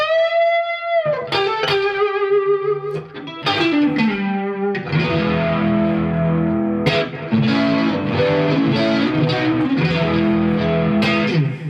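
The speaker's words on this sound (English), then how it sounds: "if you want to get really crazy and you want to throw on some chorus with the Echo Rain and the Blues Screamer, you've got something" Electric guitar through chorus, Echo Rain delay and Blues Screamer overdrive pedals, playing a bluesy lick with sustained bent notes then chords, loud and clear with echo trails, no talk.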